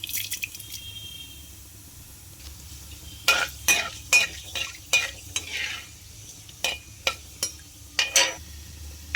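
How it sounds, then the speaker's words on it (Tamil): Oil sizzles steadily in a pan with a run of sharp crackles and pops as cumin seeds fry, with a few scraping stirs; no one speaks. "எண்ணெய் காஞ்ச உடனே சீரகம் சேர்த்துக்கோங்க. சீரகம் பொரிந்தவுடன் வெந்தயம்,"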